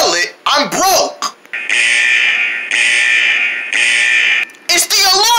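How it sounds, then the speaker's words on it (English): A loud electronic alarm sounds in steady repeated blasts, each about a second long with short gaps between, while voices speak over the start and the end. "It's the alarm."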